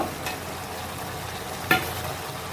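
Mixed vegetable fish curry in a pan, a faint steady sizzle with a brief stir and one sharp utensil clink, no one speaking.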